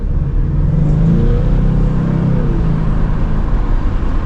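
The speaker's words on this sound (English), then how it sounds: "It's got a little bit of that engine noise. I love the turbo squealing." A Ford Mustang EcoBoost with a turbo drives along, its engine giving a loud, steady, close-up drone with a slight rising whir and no talking.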